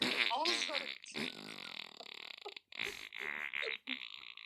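A voice imitates a fart noise with buzzy, grunting blurts, mixed with talking during a casual podcast conversation; the imitation is close and loud, broken by brief pauses.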